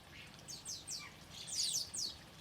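Small birds such as sparrows at a garden feeder give a series of thin, high chirps and tweets, several quick calls spaced across a couple of seconds, fairly close and alone over faint background noise.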